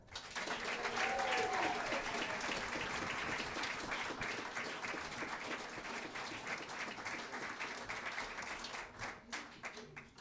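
Warm audience applause greets the headline performer at a jazz concert on Maui, a dense, steady wash of clapping that carries on for several seconds and thins slightly toward the end.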